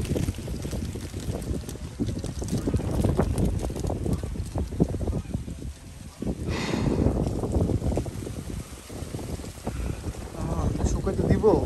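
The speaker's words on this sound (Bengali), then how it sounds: "কি বাতাস ভাই দেখেন।" Strong wind gusts outdoors in a village, buffeting the microphone with a continuous low roar that swells and briefly drops near the middle, with faint voices underneath.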